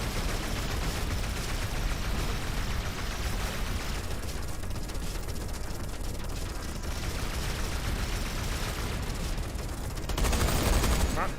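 Spaceship guns in Everspace 2 fire as a dense, continuous rattle of rapid shots layered over a roaring background, ending in a louder, heavier burst.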